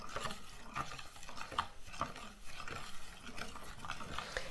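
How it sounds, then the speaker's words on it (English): A spoon stirs honey into concentrated hibiscus iced tea in a glass, making soft repetitive swishing with light clinks against the container, quiet and close, with nothing else heard. "So just stir that in to dissolve it. Really stir that in really well."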